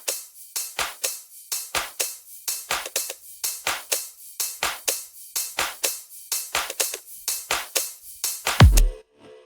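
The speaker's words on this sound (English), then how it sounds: "I've just added a top loop from a sample pack" Top loop drum sample from a sample pack for an electronic track drop: a bright, crisp percussive loop of hi-hats and shaker hits in a steady rapid groove, ending in a swept effect, with no voices.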